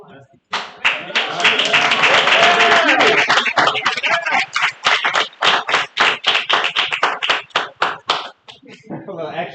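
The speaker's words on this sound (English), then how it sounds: "couple claps." Claps from a small audience at a real-estate investing seminar, with a voice over the opening. A dense burst of clapping then thins into slower, sparse individual claps that trail off near the end.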